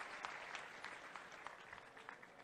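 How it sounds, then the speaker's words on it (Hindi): Audience applause welcoming a chief minister at a public event, a steady dense patter of clapping held at moderate, fairly distant level with scattered sharper claps and no talk throughout. "जोरदार ताली बजाकर माननीय मुख्यमंत्री का स्वागत करें"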